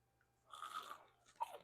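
Two close, quiet crunchy bites into golden, crisp-crusted beef short ribs, the first a longer crackling crunch and the second a sharper snap, heard alone against near silence.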